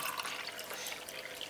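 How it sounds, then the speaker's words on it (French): Water from a cup pours steadily into a bowl of salt dough, a continuous splashing trickle heard close up with no talking. "vous devez rajouter"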